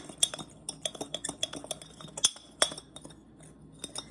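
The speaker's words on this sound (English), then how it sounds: "take a fork and just blend all those dry ingredients together" Fork scraping and clinking against a bowl while stirring dry microwave brownie ingredients, with repeated quick metallic chinks in an uneven rhythm, close and moderately loud.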